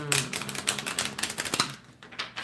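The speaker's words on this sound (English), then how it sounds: "Feeling like I need to shuffle the cards like this." Tarot cards are shuffled in quick, crisp clicking and flapping bursts, close and fairly loud, with a short pause before a few final snaps.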